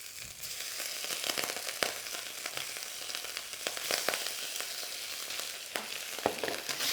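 Pork belly slices searing in smoking-hot oil for a double-cooked pork stir fry, giving a steady, close, loud sizzle with sharp crackles and pops scattered throughout, no voices.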